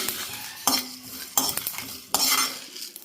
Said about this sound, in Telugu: ఇవన్నీ లో ఫ్లేమ్ మీద వేయించాలండి